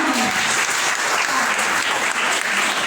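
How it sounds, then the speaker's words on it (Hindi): Loud, continuous audience applause at a business training program fills the whole stretch, a dense steady wash of clapping with no pauses. "एक जोरदार ताली होनी चाहिए आपको"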